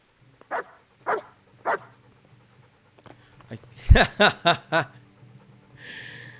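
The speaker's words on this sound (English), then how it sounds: "The dog is pissing against the leg of Yannick" A dog in the medieval game Kingdom Come: Deliverance barks three times with even spacing, then a short pause and a rapid burst of louder barks close by, followed by a faint rustle at the end.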